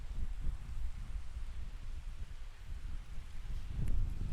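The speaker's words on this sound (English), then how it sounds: "A little windy out here" Gusty wind blows outdoors in a canyon, a steady low rumble and buffeting against the microphone that rises near the end, with no voices.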